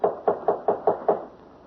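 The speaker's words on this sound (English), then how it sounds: "I'll knock again." Six firm knocks on a door in a steady rhythm, close and fairly loud, followed by a short quiet pause.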